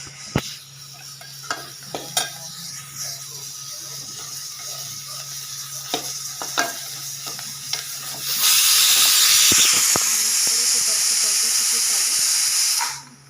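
A few sharp clicks and quiet kitchen noise, then a loud, steady hiss of steam bursts out of a pressure cooker whistle and runs for several seconds before cutting off.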